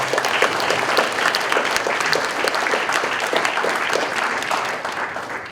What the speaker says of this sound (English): Let's give them all a big round of applause for all of them.